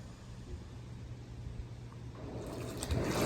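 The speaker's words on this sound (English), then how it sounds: "And then we're gonna go ahead and turn the jets on." Jets on a brand-new hot tub start up during a purge, water churning and circulating in a soft low rush that swells louder toward the end, with no talking.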